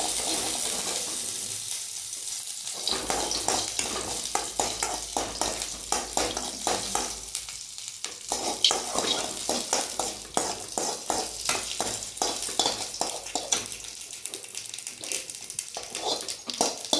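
Dried red chillies and curry leaves crackle and sizzle in hot oil as a tempering for tomato pachadi, a steady dense frying hiss with rapid popping and occasional stirring, close and continuous throughout.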